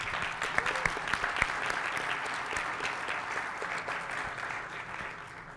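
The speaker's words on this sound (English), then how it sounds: "give yourself a round of applause just for coming together as a community." Applause from a conference audience at a developer day keynote, a dense steady wash of many hands clapping with a few sharper claps standing out, slowly fading toward the end.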